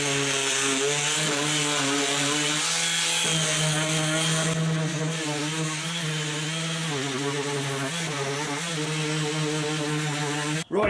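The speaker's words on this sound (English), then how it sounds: "do a bit of sanding on it and just going to knock those really sharp corners off" A wooden crate has its sharp corners sanded off by a power sander, which gives a steady, loud, droning whine that holds for the whole stretch with slight shifts in pitch.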